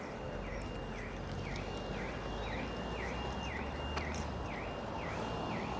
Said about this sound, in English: Turn your alarm off, mate.